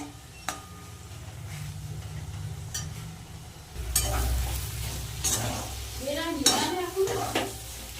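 Lote fish jhuro with potatoes being stirred and fried in a pan, a spatula scraping and clinking against the metal over a steady sizzle that grows louder and busier in the second half.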